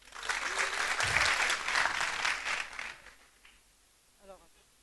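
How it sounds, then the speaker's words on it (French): Audience applause at a festival competition event, a dense burst of clapping that swells and then fades away over a few seconds, with a voice speaking briefly at the end. "Et on applaudit aussi pour tout le monde, toute l'équipe."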